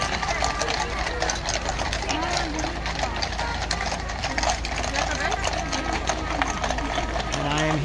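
Horses walking at the changing of the guard at Buckingham Palace in London, a steady clatter of hooves mixed with crowd noise and voices throughout.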